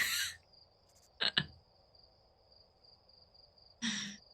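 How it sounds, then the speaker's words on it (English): Cricket-chirping nature ambience plays in a video game as a thin, steady high trill with no music, broken by a few short, louder rustling bursts. "It's not playing any music, by the way, just crickets."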